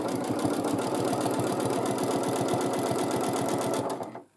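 A sewing machine stitches free motion quilting in a fast, steady needle rhythm, running loud and close without pause before stopping abruptly near the end.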